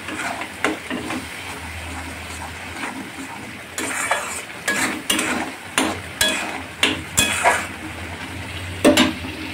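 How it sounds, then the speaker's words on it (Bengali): Bombay duck fish stirred into sizzling spice paste in a pan for a Bengali fish curry, with a steady frying hiss and scattered scrapes and clinks of a spoon against the pot. "মশলাটা একটু কষানো হলেই লোটে মাছটা এর মধ্যে দিয়ে দিতে হবে।"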